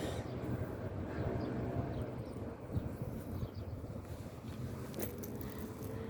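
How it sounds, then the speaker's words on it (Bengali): Cold evening wind blows steadily and fairly loudly throughout during an outdoor walk, a continuous broadband rush with gusting texture and no voices. "ঠান্ডা বাতাস।"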